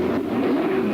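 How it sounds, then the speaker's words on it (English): A Ford 302 V8 racing engine accelerates on the course at the 1967 Rex Mays 300, a loud, sustained engine drone with a steady rising pitch through the whole moment. "It seems to be a very, very lively engine. Now, it's not pulling tremendous maximum horsepower, but it seems to accelerate very well."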